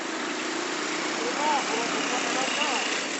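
Car and motorcycle engines idle and hum in street traffic near a university, a steady mid-distance rumble with a passing motor whining briefly, while someone talks over it.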